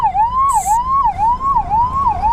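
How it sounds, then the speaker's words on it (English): An ambulance siren wails on a highway, loud and steady, sweeping up and down in a regular rising-falling cycle, with a brief higher tone near the start. "Okay, ambulance."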